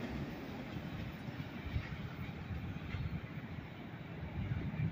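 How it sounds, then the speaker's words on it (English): A long, steady low rumble of a short CSX M410 freight train led by an SD70MAC rolling past Landenberg Junction, broadband and continuous, with faint rattling on top and no voices. "That is a ridiculously short train."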